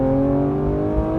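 A 2024 Porsche 911 S/T engine roars loud and steady inside the cabin, with a strong droning hum and no talk over it.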